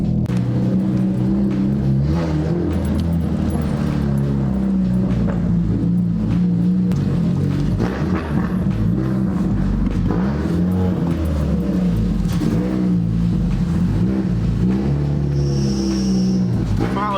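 A car engine runs too rich and idles unevenly, a steady close low rumble with wavering pitch and some throttle swells throughout, a faint voice briefly audible under it.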